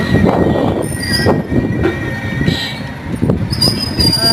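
A train running along a railway line in Pabna, heard close as a rumbling, clattering roll with thin metallic wheel squeals rising above it.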